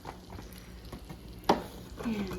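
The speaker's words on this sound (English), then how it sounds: "And give that a little stir to stir up our salt and our olive oil." Penne pasta, a whole box of Barilla, stirred in a pot of boiling water with salt and olive oil, a soft swish and a sharp clink of the spoon against the pot over a low bubbling background.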